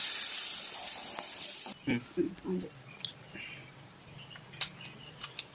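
Tamarind juice poured into a pan of frying ivy gourd masala, a bright hiss that cuts off abruptly after about two seconds, then quiet clinks and a few soft spoon taps and spoken voice.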